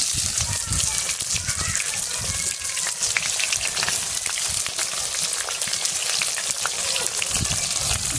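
Chopped onion frying in hot oil hisses in a loud, dense, continuous sizzle close by, with occasional spattering bursts.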